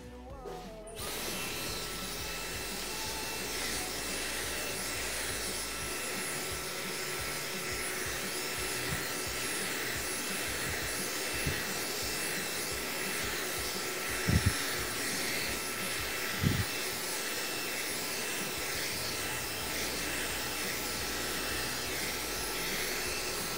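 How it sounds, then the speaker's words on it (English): A hair dryer blows steadily and loudly up close while the back of a barbershop haircut is dried, a continuous whooshing drone with a few faint knocks underneath. "as I'm starting to blow dry the back"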